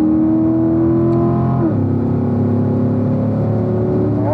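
Race car engine droning loudly under steady throttle on a track at Spring Mountain, pitch rising, then a sudden drop at the upshift to fourth gear before climbing again, heard from inside the car with no talk.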